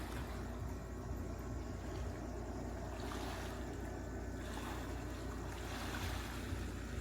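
Outdoor water and rain ambience: a steady broadband wash of falling rain and moving water with wind buffeting the microphone, continuous and fairly distant, no speech.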